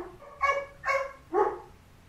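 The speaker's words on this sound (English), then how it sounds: "Nick actually just got home from work, so the dogs lose their mind" Dogs barking excitedly as their owner arrives home: three sharp, fairly close barks spaced about half a second apart over a quiet indoor background.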